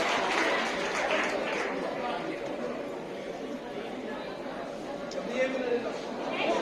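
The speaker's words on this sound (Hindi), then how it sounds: "इतनी बड़ी इनकी अचीवमेंट और इतनी लंबी तालियां इनके लिए होनी चाहिए" A large audience applauds continuously and steadily for schoolchildren receiving trophies at a school prize distribution ceremony, with a voice talking over the clapping.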